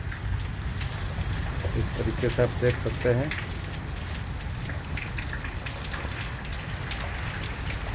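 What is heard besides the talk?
heavy rain with wind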